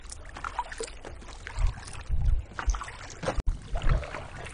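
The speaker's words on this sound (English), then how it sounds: "I'm being battered by 2 foot waves now." Two-foot waves slap and slosh against a kayak hull on Coniston Water in irregular bursts, with low thumps and wind rushing past the microphone up close.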